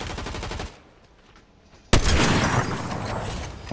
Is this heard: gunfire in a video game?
yes